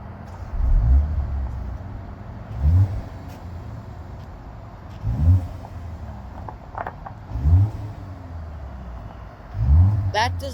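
A 2025 BMW M235 Gran Coupe engine in sport mode gives five short, deep revs spaced a couple of seconds apart, each a brief blip that fades back to a low idle.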